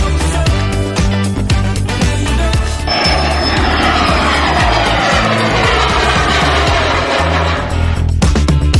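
Loud roaring jet engine noise builds and sweeps overhead, a dense broadband rumble mixed with a whine, filling the whole stretch.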